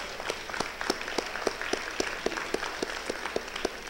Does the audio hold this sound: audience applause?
yes